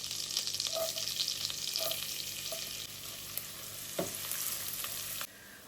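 Garlic sizzles steadily as it fries in butter and oil in a pan, a continuous crackling hiss with a few soft utensil taps, the frying easing slightly toward the end.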